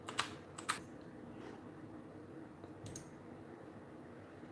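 A computer keyboard gives a few scattered clicks and key taps, close and fairly quiet, with long gaps between them over a faint room hiss, as someone works on a PC during overclocking.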